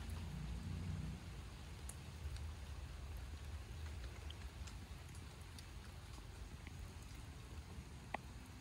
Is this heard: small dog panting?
no